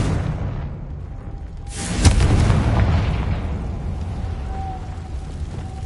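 A Confringo spell explosion in Hogwarts Legacy, a single loud booming blast that bursts in after a quieter stretch, then rumbles and trails off under ongoing game ambience.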